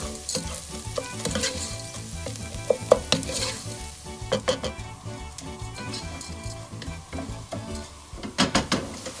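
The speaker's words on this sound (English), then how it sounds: "When I tell you to toast the rice, this means that the rice has to become translucent" Risotto rice toasts in a pan with a soft, steady sizzle while a utensil stirs it, scraping and tapping against the pan in uneven bursts, close by and with no voices.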